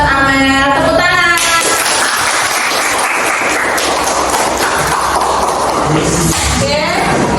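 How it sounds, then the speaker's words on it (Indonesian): Classroom applause after a student's presentation, a broad steady wash of clapping from many students that fills most of the stretch, with talk at the start and end. "Terima kasih buat Amel. Tepuk tangan."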